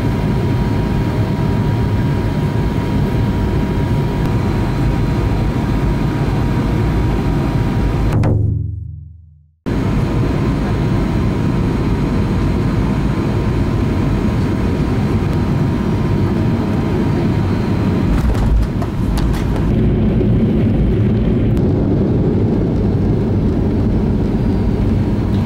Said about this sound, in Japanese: 我们的飞机马上就要着陆。